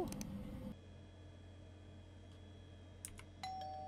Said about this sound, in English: Sino yung doorbell? Sino yun?